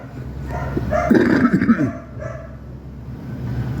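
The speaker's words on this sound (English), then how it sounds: "I fucking hate my neighbor's dog." A neighbor's dog barks in a short burst of several yaps, moderately near, over steady background noise; the barking peaks in the middle and fades, with no speech.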